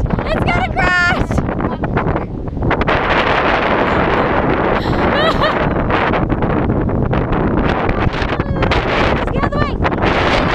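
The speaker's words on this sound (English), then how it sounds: "Jake, the wind's pushing me back!" Strong wind on a beach during kite flying roars and buffets the microphone loudly and without a break, while people shout and call out over it.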